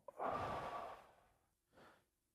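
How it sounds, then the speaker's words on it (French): A long, deep inhale-exhale breath, loud and close, followed by a shorter, softer breath a moment later, with no talking. "Une respiration."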